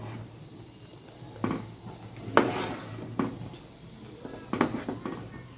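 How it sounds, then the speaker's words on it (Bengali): Khichuri being stirred in a cooking pot with the gas turned off, a few scattered scrapes and clanks of a spoon against the pot at irregular intervals over a quiet room background. "এবার ভালো করে নাড়িয়ে চাড়িয়ে নেব"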